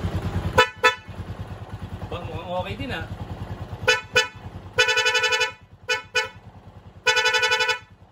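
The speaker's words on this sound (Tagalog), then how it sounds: "Mas maganda yung busina natin." A loud budget dual vehicle horn honks two-tone in several bursts, short blasts then longer ones, over an idling motor with brief talk in between.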